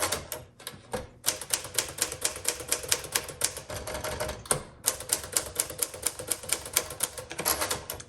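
Keys clack in a quick, even rhythm on a 1950 Smith Corona Sterling manual typewriter, close and crisp, with a few brief pauses and a carriage shift partway through.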